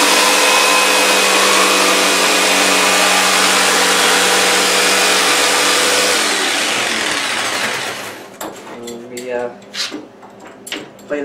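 Jigsaw mounted under a workbench and running, a loud continuous high motor whine for several seconds that winds down and stops, followed by clatter and handling noises.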